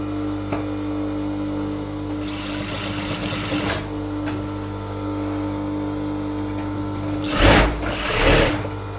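A sewing machine stitches a V-shaped pleat on elastic trousers, running in a steady hum for several seconds, then two short louder bursts near the end; no talk.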